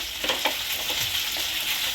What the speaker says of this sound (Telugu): ఈ అల్లం వెల్లుల్లిపాయ పేస్ట్ కూడా పచ్చివాసన పోయే వరకు ఫ్రై చేసుకోవాలి